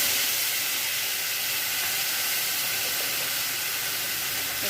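Spices, ginger paste and tomato fry in hot oil with panch phoron, cumin, bay leaf, salt and turmeric, giving a steady, loud, unbroken sizzle and hiss that holds evenly throughout with no talking.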